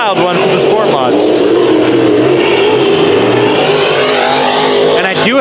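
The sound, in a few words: sport mod race cars finishing a heat race at Bakersfield Speedway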